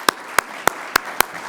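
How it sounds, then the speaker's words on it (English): Five sharp, evenly spaced claps ring out close and alone, each a crisp isolated slap, sounding like a single pair of hands rather than a full audience at a keynote. "Please join me in giving him a warm round of applause."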